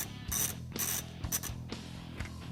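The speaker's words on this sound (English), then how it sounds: "Tighten this screw back down." A ratcheting screwdriver tightens the air box screw on a Honda Pioneer 1000-5 UTV, giving several close, rasping clicks in separate bursts.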